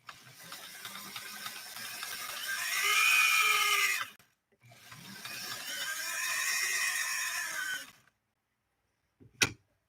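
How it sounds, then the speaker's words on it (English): A sewing machine drones with a rising, whining squeal from a belt slipping inside it, two long strained passes, then silence and a short sharp clack. "There's a belt slipping inside of the machine below these cleated belts."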